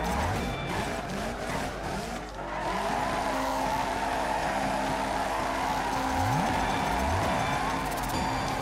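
Video game rally car in Dirt 3 skidding through a handbrake spin, tires squealing over a steady engine drone that dips briefly then holds loud and continuous.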